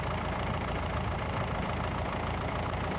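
A rotary mower engine idles steadily after working under full load, a constant dense mechanical rumble and hiss at close range with no talking.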